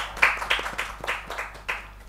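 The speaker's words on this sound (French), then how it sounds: "Applaudissez pour eux," Studio audience on a TV show clapping for the guests, a small group whose sparse, uneven claps come in distinct bursts.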